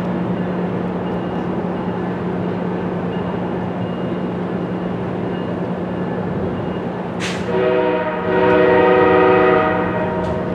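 A MARC commuter train rumbles past at Brunswick, Maryland with a loud steady roar, then its horn blasts close and strong in a long chord near the end.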